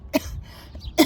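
A woman training for a half marathon coughs twice, with short, close, sharp bursts about a second apart and quiet between them.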